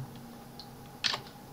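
A computer keyboard gets a few quick keystrokes while typing in Microsoft Excel, sharp close clicks clustered near the end after a quiet stretch.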